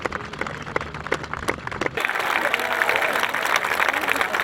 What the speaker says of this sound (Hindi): यार शायाने शाम तालियां होनी चाहिए